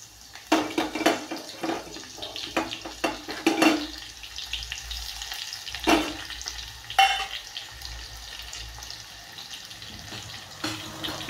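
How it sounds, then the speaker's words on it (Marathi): Crushed garlic and cumin frying in hot oil for a Marathi kalvan, with bursts of crackling sizzle and stirring clatter alongside a steady hiss, loudest near the start and fading to a low background fry. "तेल तापल्यानंतर हे आपण लसूण आणि जिऱ्याचे कूट केलेला ना मोठा मोठा, तो आपण यामध्ये टाकायचा आहे."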